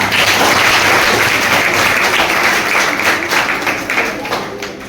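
Loud, sustained applause from a crowd of students and staff at a school quiz show modelled on KBC fills the space, many hands clapping together and gradually fading toward the end, with faint speech beneath.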